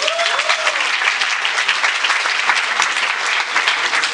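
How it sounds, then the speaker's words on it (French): Audience applause at the closing and awards ceremony of a film festival, a dense, steady clatter of many hands clapping continuously from start to finish with no break, loud and close, with no voices rising above it. "On va applaudir encore une fois s'il vous plaît."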